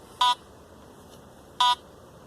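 Two short, evenly spaced electronic tones from a Teknetics metal detector sweeping over buried 50-cent silver coins, each a brief clear beep standing out against a quiet background.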